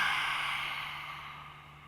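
A forceful yoga breathwork exhale with the tongue stuck out during a Kundalini flow: one long, breathy rush of air that starts strong, fades steadily over about two seconds, and is heard alone.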